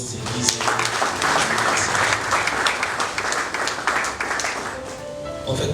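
Sustained applause from a church congregation acclaiming the prophet, dense and steady clapping filling the room for several seconds, with a few voices mixed in beneath it.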